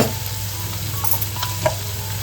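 Red chili masala sizzling in an onion-tomato tempering in a pan, a short low steady fry with faint stirring ticks, close and moderately quiet.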